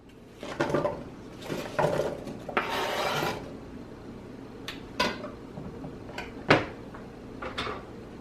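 Apples dropped into heated butter in a pan and stirred, giving scraping, rubbing strokes and a brief sizzling wash, followed by a few sharp clicks and knocks of utensil against pan, close and moderately quiet.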